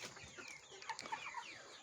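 Tiger breed hens recovering from a cold cluck softly in a farmyard, a few brief quiet calls scattered over a low background hiss.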